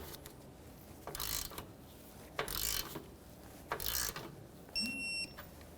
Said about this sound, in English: bottom it out, torque it to 32 foot-pounds